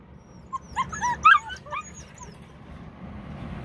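Puppies shut in kennels give a burst of high whimpers, yips and short barks over about a second, then fall quiet against a steady low background hum; close and moderately loud, no talking.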